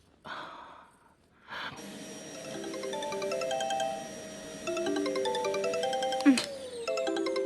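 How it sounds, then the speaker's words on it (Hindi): A phone ringing with a melodic electronic ringtone in a home scene from a Hindi-dubbed South Indian film, a repeating tune of bright tones that starts after a brief breath and short pause and carries on steadily, fairly loud and close. "काम के ही बीच में हमेशा फोन आता है।"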